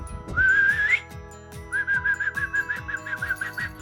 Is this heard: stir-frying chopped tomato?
no